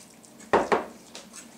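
A fork scrapes and clacks against a bowl while mixing seasoned corn chip dough, two close, sharp bursts followed by a softer third stroke, with no talking.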